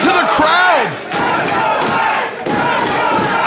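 Loud crowd at a CTWE wrestling championship event roars and shouts, with a few whistles and chants swelling and dipping in waves.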